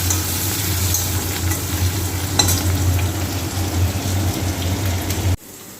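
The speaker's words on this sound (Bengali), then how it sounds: "চলো কলমি শাক কুটেছি, ভাজা করব।" Water spinach frying in a pan with poppy seeds and onion, a steady close sizzle and crackle with light stirring scrapes, cutting off abruptly near the end.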